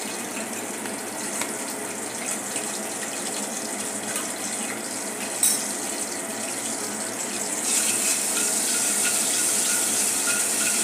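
Asafoetida sizzling in hot oil in a kadhai, a steady loud hiss and crackle of frying that runs throughout and grows brighter toward the end, with no talking.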